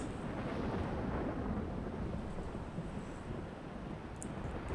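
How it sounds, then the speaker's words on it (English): Stormy weather in the video game Sky: Children of the Light, a steady broad low rumble with windy noise that holds constant throughout, with no speech. "Sounds like there's a storm brewing."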